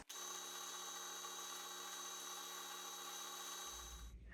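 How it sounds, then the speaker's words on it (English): A drill with a 4 mm bit bores into a celluloid guitar pickguard, giving a steady, high, whining hum that holds for about four seconds, then winds down with a low rumble at the end. "I'm going to use the 4mm bit to drill the rest of the pickguard"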